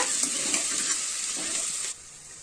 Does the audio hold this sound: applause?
no